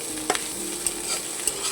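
Egg and potato fry is stirred in a frying pan, a steady sizzle with a few sharp spatula scrapes against the pan, close and alone.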